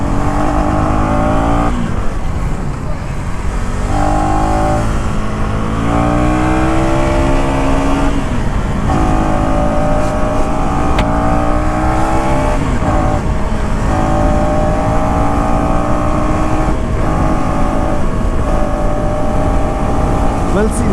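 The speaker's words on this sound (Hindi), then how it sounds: "if I pull this bike at a full throttle, it gives you power instantly" A 2024 KTM Duke 250 motorcycle revs and pulls hard at full throttle, its engine note rising and climbing through repeated surges in a loud, steady drone, with someone talking over it.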